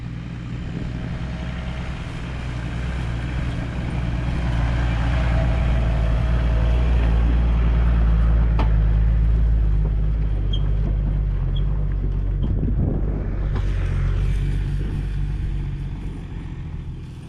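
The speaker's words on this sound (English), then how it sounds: "we're just watching all the tractors take all the boats out" Tractors haul boats out of the water on a beach at Perlubie on the Eyre Peninsula's west coast, a steady low engine drone that swells and holds near, then eases, with faint surf and wind around it.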